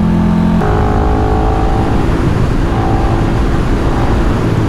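A KTM 1390 Super Duke R EVO motorcycle engine on a racetrack in third gear, loud and steady throughout with a sustained engine drone and shifting tonal pitch, accompanied by heavy wind rush.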